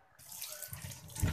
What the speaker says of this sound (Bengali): তো আমি প্রথমে মাছগুলো ধুয়ে নিচ্ছি